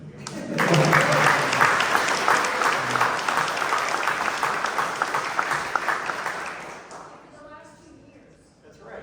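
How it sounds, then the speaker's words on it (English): Warm audience applause at a local leaders' membership meeting, rising sharply and holding for several seconds, then thinning as a speaker's voice returns. "Can y'all applaud him?"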